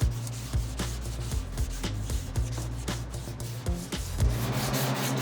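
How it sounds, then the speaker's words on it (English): Dried glaze body filler being sanded with 80 grit sandpaper on an OBS Chevy truck body, producing loud, close, rhythmic back-and-forth rasping strokes that continue steadily without talk. "Now that our glaze is dry, I'm gonna go ahead and hit it with some 80 grit."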